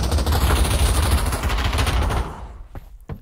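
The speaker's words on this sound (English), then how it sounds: "Somebody shooting." Gunfire rattles in Pavlov VR, a loud rapid automatic burst lasting about two seconds, then a couple of sharp, separate single shots as the barrage fades.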